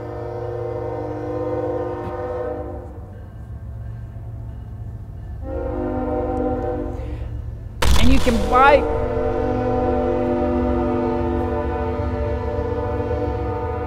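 A train horn blows in long, loud blasts with short gaps between them, while someone talks briefly and a sharp clatter cuts in midway.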